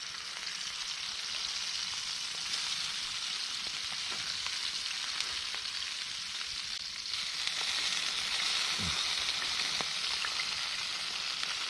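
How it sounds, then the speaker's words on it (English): Steak, mushrooms and burgers fry in bacon fat at an outdoor camp cookout, a steady close hissing sizzle with faint crackles running throughout. "Now we're gonna chuck the steak, mushrooms and the burgers in there, and that's gonna cook off of the bacon fat."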